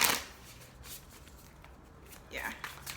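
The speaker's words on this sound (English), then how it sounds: "It takes me forever to shuffle." Tarot cards riffle and slide together in short bursts, a soft papery shuffling close by with quiet pauses between.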